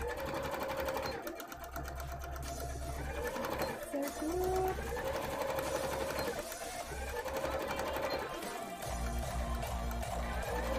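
A sewing machine running free-motion embroidery on fabric whirs in a steady, close, continuous drone, with short pauses and restarts as the stitching continues; a voice talks over it at times.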